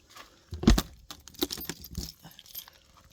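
Lost motorhome keys jangling and clinking in a quick burst as they are picked up and handled, with a few lighter rattles trailing off afterward.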